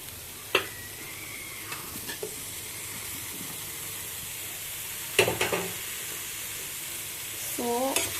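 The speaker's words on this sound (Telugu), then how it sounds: "సో ఇప్పుడు మష్రూమ్స్ని కూడా మంచిగా మిక్స్ చేసుకొని రోస్ట్ చేసుకోవాలి." Mushrooms go into a pan of golden-browned onions and are stirred and roasted, giving a soft steady sizzle punctuated by a few clattering knocks of the spoon against the pan, with no voices.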